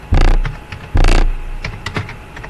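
Someone types a command on a computer keyboard: two loud, clattering bursts of keystrokes, followed by a few lighter, scattered taps close by.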